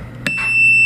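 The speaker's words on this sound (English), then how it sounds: "that's what it's like when the nitrous oxide sensor goes off" A nitrous oxide sensor alarm on a hybrid rocket launch control system gives a short electronic beep, heard once as a brief sharp tone followed by a sustained high pitched whine.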